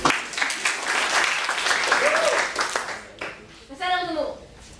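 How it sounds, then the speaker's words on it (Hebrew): Audience at an improv show at the Technion claps in a brief, moderately loud burst that fades within a few seconds, after which a voice speaks. "אז אתם מוחאים להם כפיים."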